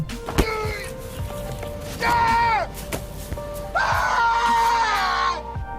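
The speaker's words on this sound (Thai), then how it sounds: "เขาคว้างไม้ทิ้ง เตะข้าวของโยนวอลเลย์บอลทิ้ง และตะโกนด้วยความโกรธ และก็สิ้นหวัง" A man on a deserted island shouts in anger and despair in Cast Away (2000), bursts of anguished yelling between thuds and knocks as things are thrown and kicked.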